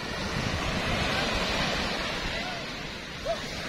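Waves wash onto a beach in a steady, broad surging roar with wind noise across the mic, continuous and fairly close throughout.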